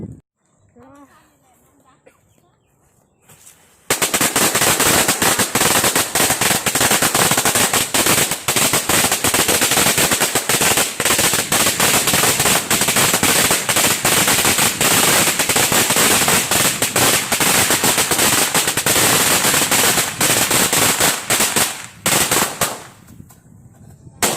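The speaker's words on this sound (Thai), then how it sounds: "จุดประทัดให้นู่นหน่อย" At a Thai household shrine-raising ceremony, a long string of firecrackers goes off in a continuous, deafening crackle lasting about twenty seconds. Voices are heard briefly before it starts.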